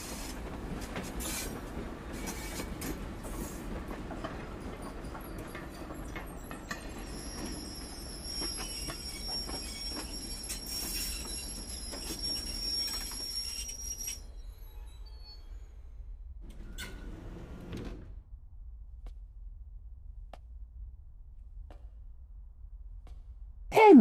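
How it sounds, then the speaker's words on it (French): A train rumbles through a tunnel and arrives at a station, a sustained roar with high wheel squeals that fades toward quiet near the end. "un train passe le tunnel et arrive en gare"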